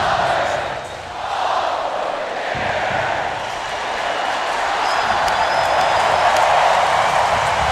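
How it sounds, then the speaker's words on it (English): A huge football stadium crowd at a Tennessee at Florida college game roars in a sustained, swelling wall of cheering and shouting, loud and enveloping throughout, with a brief dip before building again. "Getting the crowd fired up."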